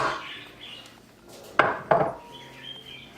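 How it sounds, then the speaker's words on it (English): Softened butter dropping into a mixing bowl, heard as two sharp clunks against the bowl about a third of a second apart, each ringing briefly over a quiet kitchen background with light utensil clatter before and after. "now into our mixing bowl, we are going to add in our softened butter"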